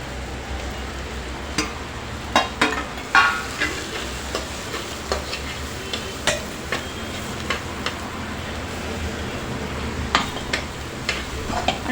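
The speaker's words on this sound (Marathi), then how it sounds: "दोन मिनटं आपण परतून घेणार आहोत" Stuffed ridge gourd with masala sautés in a pan, a soft continuous sizzle punctuated by sharp scraping clicks and taps from a spatula at an uneven pace, close and clear with no talking.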